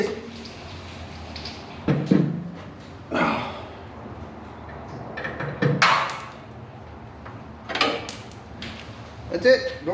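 Door coming off a 1962 VW Double Cab pickup during stripdown: several loud metallic clunks and knocks spaced through the clip, with people talking between them.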